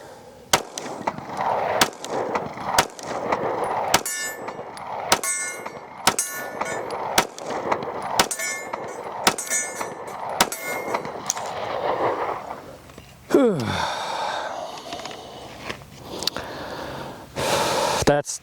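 Sig Sauer P320-M18 pistol shots ring off a steel target at an outdoor range: a steady series of loud, sharp cracks, each followed by a metallic ping. A brief pause and some handling noise come near the end, and a voice is heard faintly.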